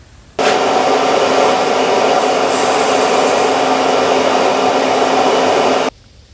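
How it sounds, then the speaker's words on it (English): A heat-treating furnace roars at a steady, loud, broadband rush, starting abruptly and running evenly for several seconds before cutting off sharply, with no voices. "Let's throw it in the furnace for a heat treat."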